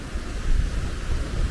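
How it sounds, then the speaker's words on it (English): Low, blustery wind rumbles across the microphone on a single-track railway station platform at Bearley, steady and loud, with no voices. "very windy"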